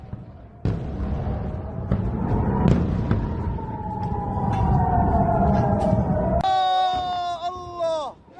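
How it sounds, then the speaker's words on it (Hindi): Wailing air raid sirens sound across Israel during an Iranian missile attack, a sustained rising and falling tone under crowd noise and sharp bangs, ending with a louder, layered siren sweep. "बाद इजराइल में हर तरफ सायरन की आवाज गूंज रही थी"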